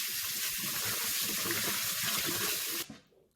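Tap water runs in a steady hiss over coconut flesh being washed, with faint splashing and handling, then the flow cuts off sharply near the end.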